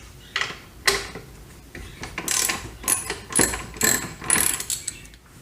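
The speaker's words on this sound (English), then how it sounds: "We'll start by loosening the two bolts." A ratchet wrench loosening bolts on a first-generation Yamaha FJR1300 motorcycle, rapid clicking bursts in repeated strokes, close and fairly loud with short pauses between, no talking.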